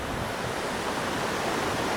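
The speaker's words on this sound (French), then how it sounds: "on est arrivé à la cascade" A waterfall gives a continuous, even roar of falling water, dense and moderately loud, with no voices for the two seconds.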